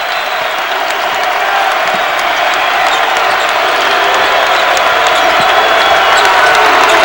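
Bradley home crowd at a 2007 NIT men's college basketball game against Providence, cheering loud and sustained as a broad steady roar with whoops, and the din builds over several seconds.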